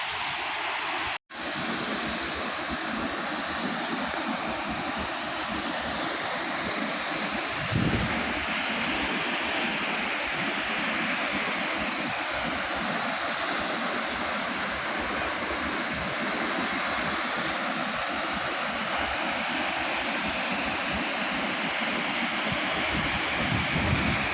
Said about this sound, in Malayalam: ആ വെള്ളം ഒഴുകും താഴേക്ക് വീഴുന്നതാണ്